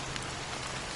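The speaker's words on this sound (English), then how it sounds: "How long has this rain been going on for?" Steady, dense rain falling in the video game Honkai Star Rail, a close, even hiss of drops with no talk over it.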